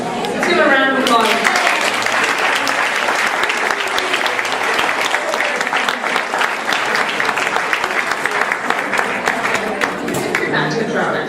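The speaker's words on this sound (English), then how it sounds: "Let's give a round of applause." Workshop audience gives a loud, sustained round of applause, dense clapping filling the room close up; a voice briefly sounds at the very start before the clapping takes over.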